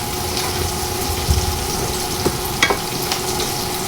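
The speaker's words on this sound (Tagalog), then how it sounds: "Tuloy lang natin yung paghalo. Ayan po, ang bango na po ng ating sibuyas at bawang." Onion and garlic sautéing in a pan, a loud continuous sizzle heard close, with a few soft scrapes and taps from the stirring utensil and no voices.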